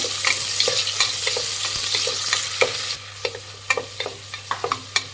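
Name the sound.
onions being stirred and fried in a pan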